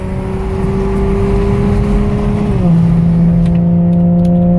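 A 2007 Ford Edge SEL with a muffler delete pulls hard from a standstill, its engine droning loud and close inside the cabin, the pitch climbing steadily and then dropping briefly at a gear change.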